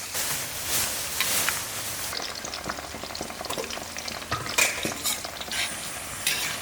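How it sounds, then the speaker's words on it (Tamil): Eggplant pieces fry in hot oil for a Tamil-style gravy, giving a steady, close sizzle with occasional stirring and the clink of a utensil against the pan. "இதே மாதிரி எல்லா கத்திரிக்காயும் பொரிச்சு எடுத்துக்கிட்டு உங்ககிட்ட காட்டுறேன்."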